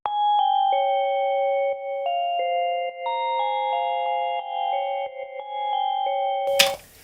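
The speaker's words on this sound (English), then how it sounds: "the sound itself is just, it's a pretty simple bell" A simple synth bell melody chimes clean, sustained tones one after another, ending with a short burst of noise.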